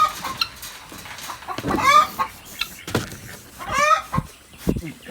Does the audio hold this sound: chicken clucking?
yes